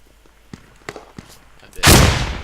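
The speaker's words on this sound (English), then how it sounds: "that was a nice little grenade there" A loud grenade explosion goes off in a video game, one heavy blast near the end that follows a few quieter thumps and a voice.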